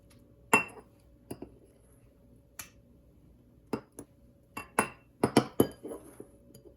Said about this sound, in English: I'm gonna crack them one at a time